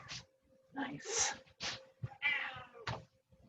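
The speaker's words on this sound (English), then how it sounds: "If you hear a cat, you're not imagining things" A cat meows a few times nearby during an indoor chair yoga session, with short voiced cries that rise and fall alongside other soft household sounds.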